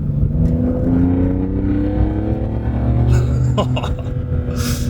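A BMW E46 M3 engine revs and drones steadily, its pitch rising as it pulls under load, with a faint voice briefly in the background.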